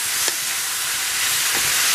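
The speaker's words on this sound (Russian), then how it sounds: "Вот так вот немного обжариваю грибы." Mushrooms fry lightly in a pan with a steady, close hiss of sizzling and a couple of faint stirring knocks, with no voices.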